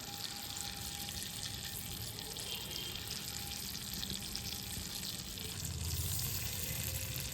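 Paneer pieces sizzle steadily in melted butter on a flat griddle, a dense continuous crackle and hiss that swells slightly louder near the end, with no voices.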